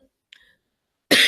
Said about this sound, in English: my cough is picking up this evening